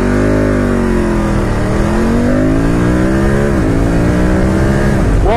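BMW F850GS motorcycle accelerating hard from a standstill, its engine note climbing steeply through the gears with brief dips at each shift, loud and close.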